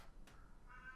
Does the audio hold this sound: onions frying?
no